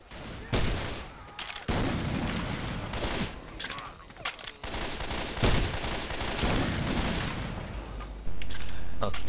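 Gunfire from the co-op zombie shooter Left 4 Dead 2 rattles in dense bursts of rapid shots and booms almost continuously, loud and close, with a player's voice cutting in over the fighting.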